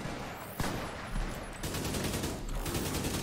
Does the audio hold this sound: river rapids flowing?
no